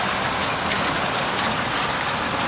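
Heavy rain pours steadily over Taif, Saudi Arabia, mixed with falling hailstones, a dense continuous hiss and patter close by with no break and no voices.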